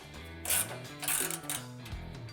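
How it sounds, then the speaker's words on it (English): A ratchet-type tool drives screws into the rear bumper of a Mercedes R107 SL, producing a few short, close bursts of clicking with pauses between them. "I first loosely fasten the center section with 3 screws so that I can still align the side sections afterward."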